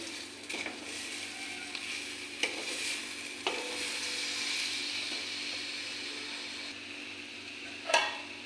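Semolina pulao ingredients with sugar, raisins and nuts being stirred in a pan, a soft continuous sizzle with scraping and stirring, and a few sharp clacks of the spoon against the pan, the loudest near the end.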